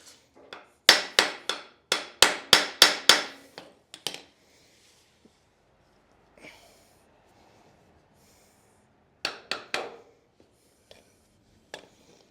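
Hammer blows on a stuck wheel of a Victa two-stroke go kart: a fast run of about eight sharp, ringing metal whacks, then a pause and a second short burst of three or four hits, close and loud with quiet gaps.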